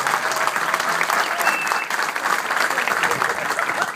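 An audience at a Moroccan Throne Day celebration in Montreal gives volunteers a dense, continuous burst of applause, close and lively, with some crowd voices underneath.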